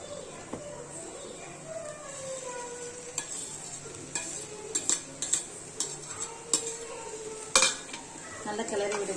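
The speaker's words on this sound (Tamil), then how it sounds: "நல்லா கிளறி விடுங்க." A spoon stirs grated egg into masala in a pan for egg keema, with repeated scraping and clinking strokes over a faint sizzle.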